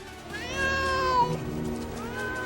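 A cat gives one long, drawn-out meow, close and clear, with a rising then falling wail, followed by the start of a second, softer cry.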